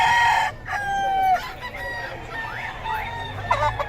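Chickens and roosters at a Bocaue poultry market, several birds clucking and crowing close by in overlapping calls, loud at first, then lighter clucks, with soft voices in the background.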